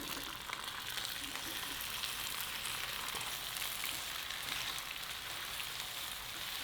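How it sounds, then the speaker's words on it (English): Green beans fry in a pan over medium heat with mustard stirred in, giving a steady, even sizzle that holds at a moderate level throughout with no talking. "Stir in your green beans now."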